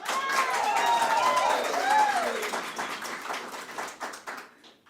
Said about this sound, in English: can we have an extra round of applause